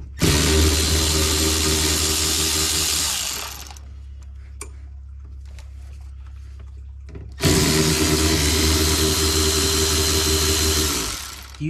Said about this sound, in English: Do you have an electric ratchet like this?